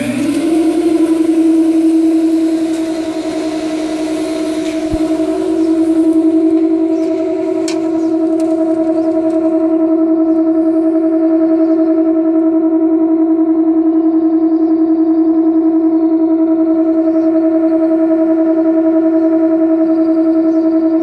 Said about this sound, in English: So I'm going to fire it up here, and I'll show you what it looks like when I'm vacuuming upstairs.